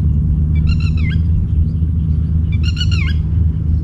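Outdoors by a fishing spot, a bird gives two loud, near calls of quick repeated harmonic notes about two seconds apart, over a steady low rumble.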